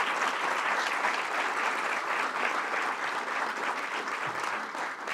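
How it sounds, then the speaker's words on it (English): A crowd applauds steadily, a dense even wash of clapping that holds at the same level throughout before easing slightly at the end. "Let's applause for that."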